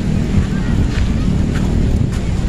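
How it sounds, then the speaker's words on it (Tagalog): Waves wash ashore at Dolomite Beach under strong wind, a continuous rough roar with heavy wind buffeting on the microphone, close and steady. "Medyo maalon-alon ngayon mga ka-vlogs."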